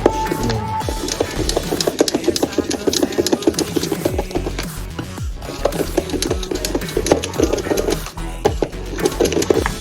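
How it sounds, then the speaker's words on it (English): Green Mountain Dew pancake batter for Frostbite pancakes is mixed with a loud, continuous mechanical whirring and rattling that runs steadily throughout, with no talking. "just gotta mix this up until it turns a normal pancake mixture"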